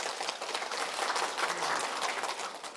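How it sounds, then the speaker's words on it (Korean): Lecture attendees clap together in brief, fairly soft applause, a dense patter of hands holding steady for a few seconds with no talking. "자 소중한 나라를 위해서 격려의 박수를 한번 쳐봅시다."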